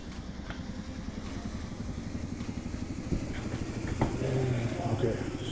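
AH-64D Apache helicopter rotor and engines spinning up in a flight simulator, a steady low throbbing whine with a rhythmic beat, building slightly in loudness, with faint talk underneath.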